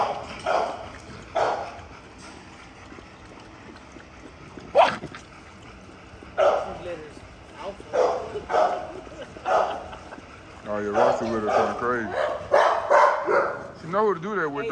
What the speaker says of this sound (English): Look at Navy barking at Zeus